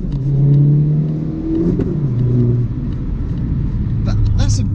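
A Vauxhall Corsa VXR engine revs up and settles in a loud, close mid-pitched drone with shifting tones, ending in a few sharp pops from the exhaust.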